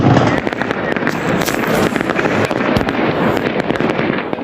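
Gunfire crackles near a riverbank bridge during Russia-Ukraine war combat as a commander fires. Dense, rapid bursts of sharp shots come close and loud, mixed with far-off reports, almost without pause.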